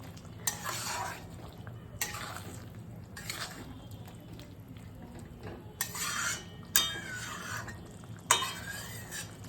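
Raw jackfruit is stir-fried in a pan for a spiced dish, with repeated bursts of scraping and stirring against the metal over a quiet background sizzle, coming in irregular strokes roughly every second or two, and no talk.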